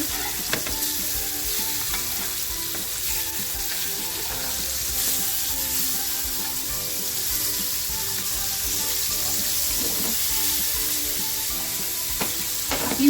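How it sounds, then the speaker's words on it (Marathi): Fish sizzles steadily in oil in a pan, a dense continuous frying hiss with occasional small pops and stirring scrapes, heard close and alone throughout. "तर बघा एक बाजूने आपली मच्छी फ्राय झालेली आहे पलटी करूया"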